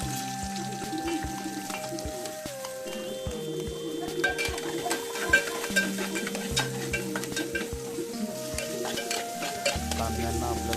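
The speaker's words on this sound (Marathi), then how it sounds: "कांद्यांना आपल्याला ब्राऊन करायचं नाही, साधे फ्राय करून घ्यायचे" Chopped onions fry in oil for upma, a low sizzle with scraping and clinking stirs, while background music plays over the pan noise.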